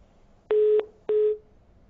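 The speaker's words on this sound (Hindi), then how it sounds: "फोन डिस्कनेक्ट हो गया है" Two steady electronic telephone tones, each about a third of a second long, sound close and clear after a call disconnects, with a short gap between them and no talk.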